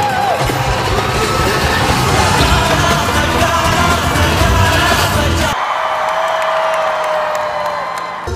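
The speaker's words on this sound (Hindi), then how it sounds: "लोग तालियां ठोके, पूरा हॉल तालियों से गूंजने लग गया।" An award-hall audience at the Tata Motors IFA Award breaks into loud, dense applause mixed with cheering and whoops. The roar fills the room for several seconds, then drops abruptly to a thinner, quieter crowd murmur.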